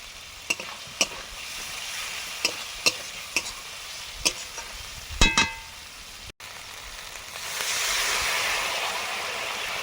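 A fish curry spice paste of chilli powder, coriander powder and roasted cumin, loosened with a little water, is stirred in a pan. Sharp spatula clicks land every second or so over a soft sizzle that swells into a louder hiss near the end.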